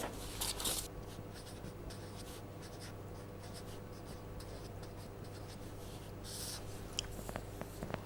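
An equation being written by hand, with a continuous scratchy pen or chalk stroke sound, close and quiet, with brief tapping accents near the end.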